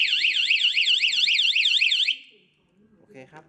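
An anti-theft alarm on a Honda Click 125 motorcycle wails loudly, its rapid up-and-down siren sweeping for about two seconds before cutting off, followed by faint talking.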